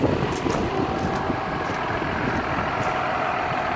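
A 2009 John Deere 6930 Premium tractor idles steadily and nearby, giving a constant low diesel rumble with no speech.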